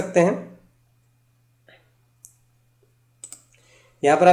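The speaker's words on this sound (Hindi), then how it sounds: "चलिए राइट क्लिक करते हैं और इसे नोटपैड प्लस प्लस में ओपन करके देखते हैं।" A computer mouse is right-clicked during a Java programming tutorial, giving a few soft, sparse clicks in a quiet stretch between short bursts of someone speaking.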